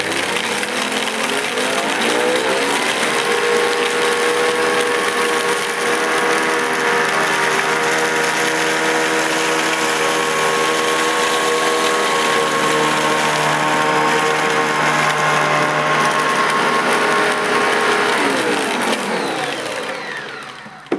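A Panasonic MC E47 upright vacuum cleaner runs steadily as it picks up a big pile of dirt beside a skirting board, a loud continuous motor whine with a rising tone at start-up and a falling one as it switches off near the end.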